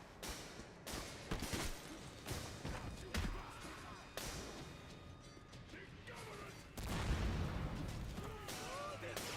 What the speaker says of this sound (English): Just casually throwing a grenade into the fucking elevator